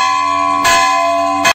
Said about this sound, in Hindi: बहुत बड़ा घंटी है, उसको मैं बजाऊंगा अभी।